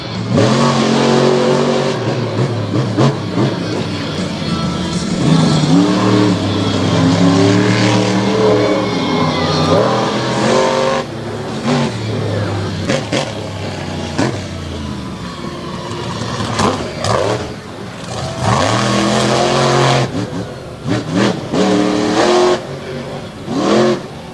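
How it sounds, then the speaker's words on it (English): Monster truck with a 557 cubic inch engine at a Lake Erie Speedway racing event, revving and roaring loudly and continuously with surging throttle bursts, crowd and arena noise blending underneath. "Putting that big 557 cubic inch engine to work."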